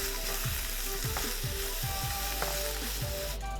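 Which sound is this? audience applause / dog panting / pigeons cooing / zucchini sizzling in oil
zucchini sizzling in oil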